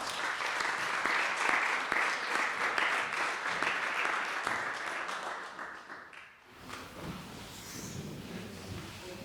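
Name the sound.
audience applause in a theatre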